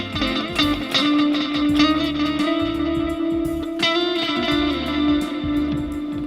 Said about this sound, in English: I just don't know how well I like the repeats being distorted.